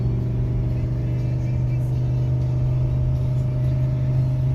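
A 2019 Ford F-350 pickup's engine rumbles in a steady, low drone as it pulls hard uphill from a dead stop in the Rockies, towing a 12,000-pound trailer, continuous and close, with no talking.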